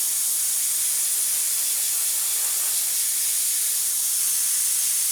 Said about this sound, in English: Make sure it's spraying through really nice.